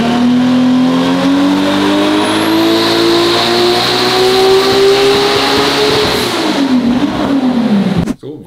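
A tuned VW Golf race car with about 1072 horsepower at the wheels revs hard on a dyno indoors, its engine note climbing loud and steady for several seconds, then dropping off abruptly near the end.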